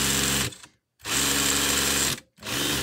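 A power drill whirs loudly in two long bursts, spinning down to silence briefly between them, with a steady high motor whine; the drill starts smoking.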